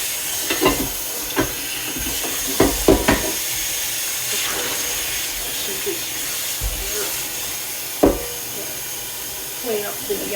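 Water boiling in a pot on a stove top in a home kitchen, a continuous bright steam hiss with scattered clanks and clatters of cookware, while a person talks intermittently.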